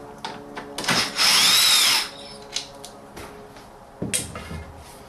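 Power tool driving out an 8mm bolt on a 2008 BMW E91 engine bay, a loud, close whirring burst of about one second, framed by scattered clicks and clunks of handling parts.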